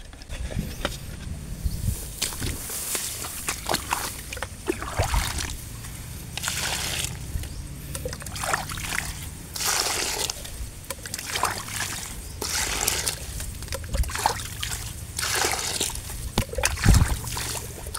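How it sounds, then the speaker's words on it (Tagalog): Water sloshes and splashes repeatedly into a bucket, with irregular pouring bursts and some clunking, fairly close. "Talagyan natin ng tubig itong timba."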